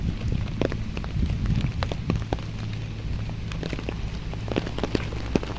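Rain falls steadily outdoors, with scattered drops pattering and ticking on nearby surfaces over a low, constant rumble.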